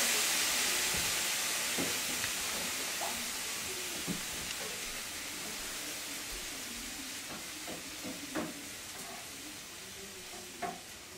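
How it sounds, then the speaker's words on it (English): Beef stock sizzling and hissing as it goes into a hot frying pan of onions, a steady loud sizzle that slowly fades, broken by occasional stirring clinks and scrapes. "And now we're going to put the beef stock."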